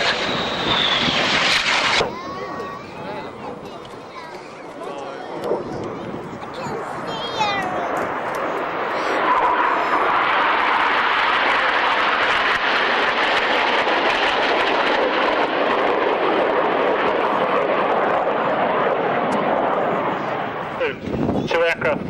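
Aerobatic jets of a synchro pair roar past at a 1993 RAF Waddington airshow, a long, loud sweeping rush of engine noise that swells and fades, with a voice speaking over it.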